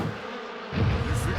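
Cartoon bees buzz in a loud, dense drone that swells suddenly partway through, sounding close and swarming.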